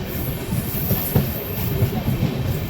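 Passenger train from Puri to Kamakhya hauled by a Ghaziabad WAP-7 electric locomotive, a steady rumbling roll heard from on board with faint rhythmic clicks of wheels over rail joints and a light hiss throughout.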